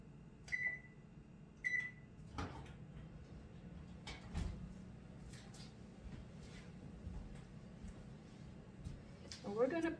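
Two short electronic beeps from an oven control panel being set to preheat to 350, followed by soft kitchen knocks and a faint clatter, quiet and close with brief talk.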